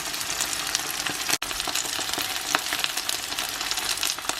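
Steady crackling sizzle of asparagus and an egg frying in a pan, continuous and close, with small pops and a brief dip partway through.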